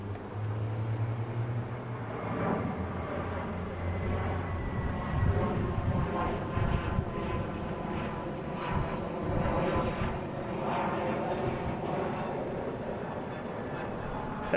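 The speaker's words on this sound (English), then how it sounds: "Here we got a JetBlue taking off here." A JetBlue Airbus A321neo takes off from Boston Logan International Airport as a broad, steady jet roar that holds at an even, moderate level throughout, heard from a distance with no voices.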